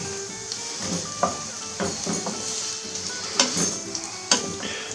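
Onions frying in a pan for a Corsican ciambotta: a steady bright sizzle with repeated stirring scrapes and clinks of a utensil against the pan, close and fairly loud, with no talking.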